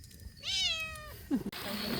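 A cat at the Sinfuego campsite on Mt. Ayaas gives a single clear, rising-and-falling meow, close by, followed by a few soft rustling noises.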